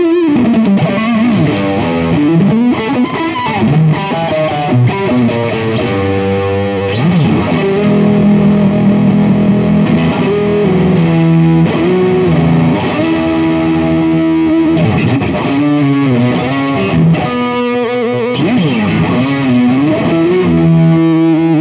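A 1950s-style Stratocaster electric guitar through Overloud TH2 amp simulation with distortion at maximum gain plays a loud, saturated phrase of sustained notes and bends, continuous and alone with no talking.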